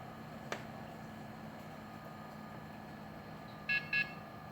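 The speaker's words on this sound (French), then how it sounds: "le bip bip il est bizarre donc il fait plus le bip bip, il fait bip bip" Two short, quiet electronic beeps from a Dell Dimension 8300 desktop computer with a partly faulty power supply sound in quick succession near the end, after a single faint click, over a low steady hum.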